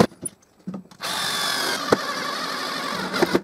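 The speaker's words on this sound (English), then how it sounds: "And I screw it in the bottom." A power drill drives a screw into a wooden block clamped to a plywood jigsaw table, starting after a few soft handling knocks and whirring steadily and loudly for over two seconds, with brief clicks near the end.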